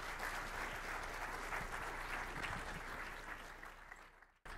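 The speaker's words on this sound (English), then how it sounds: "Let's give a big round of applause to Alan." A conference audience applauds after a security talk, a steady crowd of clapping hands at moderate distance that holds evenly, then fades and cuts off sharply near the end.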